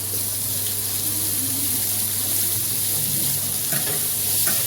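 Chopped onion and tomato frying in a pan make a constant, dense hiss of sizzling oil, close and loud, with faint stirring clinks near the end and no voices.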